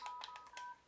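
Baby's toy phone giving a short run of electronic beeps, five quick tone bursts with a steady hum underneath, close and fairly quiet, no talking.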